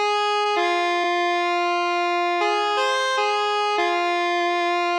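A sustained lead from an Expressive E Osmose synthesizer with bright, buzzy harmonics, holding long notes that step between pitches, steady and loud with no voices.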